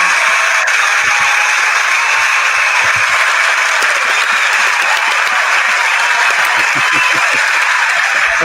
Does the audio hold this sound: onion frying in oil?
no